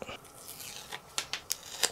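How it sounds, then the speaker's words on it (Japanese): Release paper peeled off the back of an adhesive nylon repair patch, heard as a few short, quiet crackling rips spaced across the moment. "で剥離紙を剥がして"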